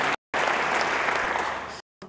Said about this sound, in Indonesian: Beri tepuk tangan yang bagus dia.